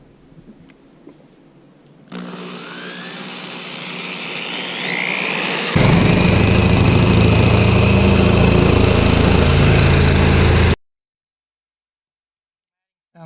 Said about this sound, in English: So I'm gonna use the step bit to drill only up to 1 inch.